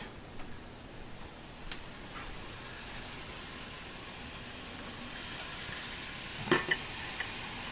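Hamburger buns toast in a hot pan, giving a faint, steady sizzle against a quiet kitchen, with a couple of soft clinks near the end.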